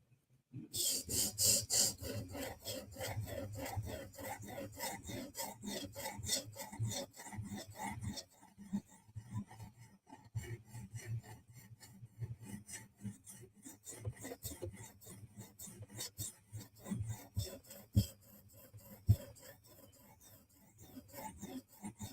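A Benchmade 940 knife blade is sharpened on a TSProf Kadet guided sharpener, giving steady rhythmic rubbing, rasping strokes of the stone on steel, close up and fairly quiet, with no talk.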